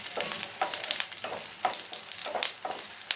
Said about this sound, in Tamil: இப்போ கருவேப்பிலையும் நல்லா பொரிஞ்சு வருது